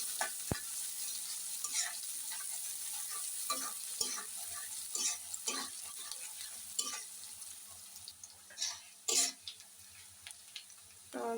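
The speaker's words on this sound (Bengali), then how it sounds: "পেঁয়াজ কুচিগুলো দিয়ে আমি ভালো করে হালকা ভেজে নেব" Chopped onions frying lightly in a pan, a soft steady sizzle with intermittent scraping and stirring clicks, close up and moderately quiet, with no talking.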